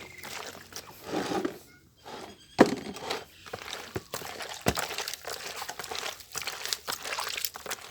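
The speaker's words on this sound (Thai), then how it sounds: "ขยำให้มันทั่วพี่น้องให้มันเข้ากัน" Hands squeezing and kneading fresh squid in a turmeric marinade, giving soft wet squelches and irregular thunks and crinkles, fairly faint and close, with quiet gaps between bursts.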